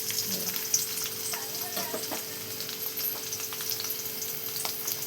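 Green chillies and garlic sizzle steadily in hot oil in a pan, a constant crackling fry with small pops and a few soft stirring sounds, heard close and alone without any talk.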